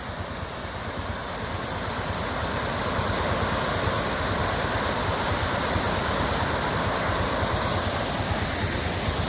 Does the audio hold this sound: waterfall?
yes